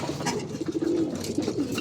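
Pigeons coo in a colony breeding loft, soft low rolling calls repeating close by over a steady background hum.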